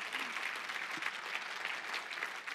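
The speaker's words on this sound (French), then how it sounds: "Une bonne main d'applaudissement pour le Seigneur." A church congregation claps for the Lord during a French-language worship service, a quiet, brief burst of many hands clapping steadily at a distance.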